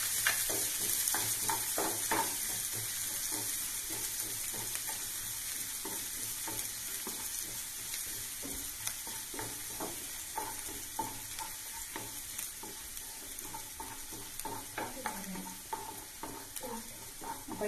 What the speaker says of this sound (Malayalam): ബാക്കി എടുത്തു വെച്ചിട്ടുള്ള പച്ചമുളകും ഉള്ളിയും കൂടി ഇതിലേക്ക് ചേർത്ത് കൊടുക്കാം